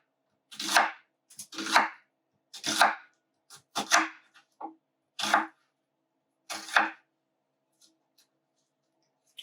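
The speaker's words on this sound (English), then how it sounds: "Now we're going to cut in large slices the half of" Half a Vidalia onion being cut into large slices with a kitchen knife, seven crisp, evenly spaced chops against a board, close and alone in a quiet room.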